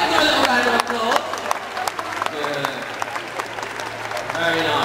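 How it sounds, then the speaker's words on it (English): Applause from the audience at a heelwork-to-music dog training demo, a brief scattered round of clapping with voices talking over it. "Give you a little round of applause"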